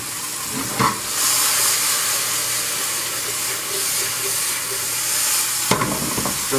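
Meat frying in a pan on a home stove, a steady sizzling hiss running throughout with soft clinks and scrapes as it is stirred, close and fairly loud with no talking.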